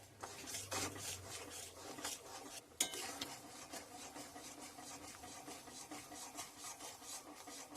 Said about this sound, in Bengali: এইভাবে নাড়িয়ে নাড়িয়ে জাল দিতে থাকবো